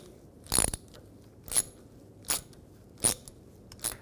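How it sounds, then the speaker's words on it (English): A ratchet with a 13mm socket tightens a sway bar link nut on a 1964–72 Pontiac GTO, giving five short, faint bursts of clicking spaced about a second apart in a quiet setting. "Take a 14mm wrench and a 13mm socket, and I'll just get this started."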